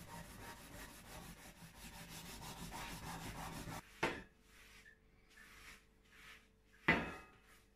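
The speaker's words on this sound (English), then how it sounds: "Some more scouring on the other side." Someone scours the surface of a vintage Amati drum shell, steady close rubbing strokes for a few seconds, then sparser scrubbing passes broken by two sharp knocks.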